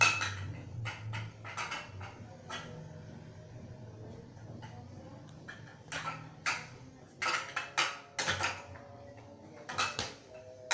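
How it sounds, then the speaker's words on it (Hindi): A spoon stirs mayonnaise in a bowl, quiet intermittent clinks and scrapes up close, busier in bursts toward the end. "मायोनीज़ को मिक्स कर लेंगे अच्छी तरह।"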